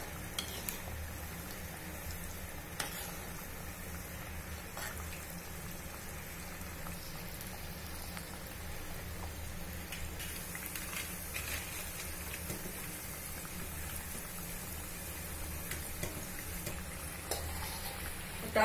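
Spinach vadas deep-frying in oil, a continuous even bubbling sizzle with faint scattered crackles, fairly quiet and without talk.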